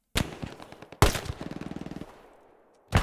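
Gunfire from the main road in the video game Hell Let Loose: a sharp loud shot, then a heavy blast followed by a rapid machine-gun burst of about a dozen rounds that fades, and another sharp shot at the end.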